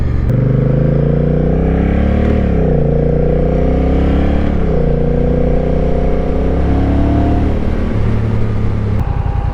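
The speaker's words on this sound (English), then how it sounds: "Man, I like the way this bike sounds. It's got a good, aggressive sound." Honda Rebel motorcycle with DCT automatic transmission, its engine running loud and close with a deep, steady throb, rising and falling in pitch as it accelerates and shifts through gears over several seconds.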